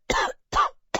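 Three sharp, loud coughs come close to the microphone in quick succession, each a short harsh burst separated by brief silences, with no talking.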